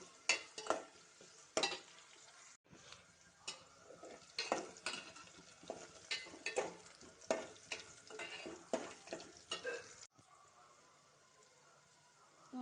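Green chillies being stirred and fried in a pan for a chicken curry, with repeated scraping strokes and clicks over a low sizzle, close and fairly quiet, easing into a softer sizzle near the end.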